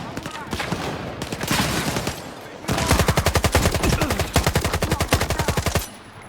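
Gunfight between men in the Stalker 2 video game, scattered shots at first, then a sustained rapid burst of automatic fire, loud and close, ending abruptly.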